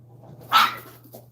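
A dog gives one short, close whimpering yelp indoors, a brief sharp cry over a low background hum.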